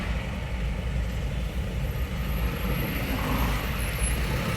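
Trucks and other vehicles sit stopped in a traffic jam on the Karnala ghat road, with a steady, loud, low engine rumble and idling drone throughout and no talk.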